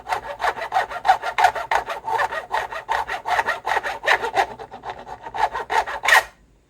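A file cuts notches into the guitar nut slots of a Gretsch Streamliner in a run of quick, rasping back-and-forth strokes, close and distinct, with brief pauses between strokes before stopping.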